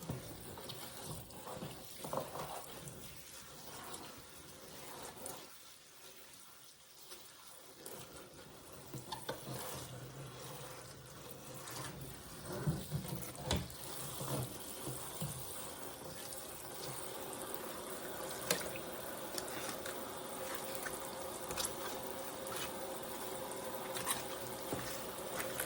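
Tap water runs steadily into a sink while collard greens are rinsed, a continuous close splashing and rushing with occasional sloshes and handling sounds, briefly quieter early on.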